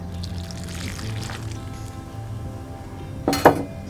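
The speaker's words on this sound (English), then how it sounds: "And then next in goes the soda water." Soda water poured into light batter in a bowl in a farm kitchen, a soft brief pour and clink near the end, preceded by quiet background room tone.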